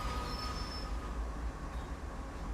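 A CSX freight train in Train Sim World 5 slides to a stop, a steady loud rumble of heavy rolling stock with a thin high wheel squeal sustained throughout and no voices.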